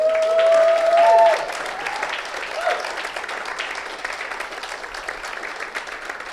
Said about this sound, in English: Let's have a big and loud round of applause for Zahid.